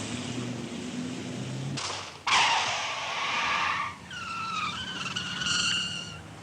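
A 1964 Austin 1100 with rear drum brakes skids under hard braking during a braking test, its tires squealing loudly and steadily for several seconds over road and engine noise, with rising and falling squeal tones toward the end.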